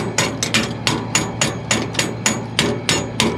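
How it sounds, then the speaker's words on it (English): A hammer pounds the underside of a bolt on farm harvest equipment, about a dozen sharp metallic blows in a steady, fairly quick rhythm, loud and close with no talk. "What I'm doing is pounding the underside of this bolt so it doesn't strip."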